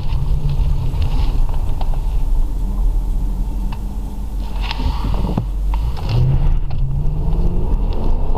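Lexus LS 430 (UCF30) running on LPG with a STAG Qmax8 plus system, driving along: a steady low engine and road rumble inside the cabin with a slight rise in revs toward the end.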